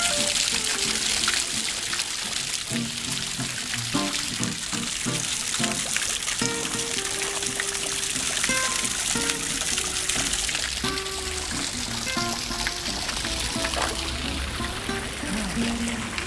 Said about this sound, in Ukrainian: Из рыбки водичка.